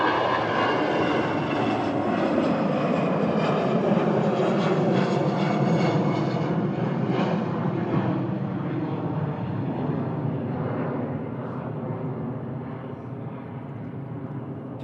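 EasyJet Airbus A319 from Malaga at an airport, heard as a broad, steady engine roar that holds for several seconds, then slowly fades as the aircraft moves away, with no speech.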